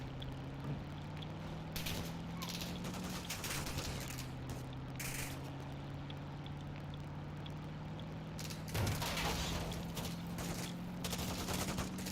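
Call of Duty gameplay gunfire: scattered bursts of rapid shots crack out over a steady, droning vehicle engine hum, with a longer volley near the end and no voices.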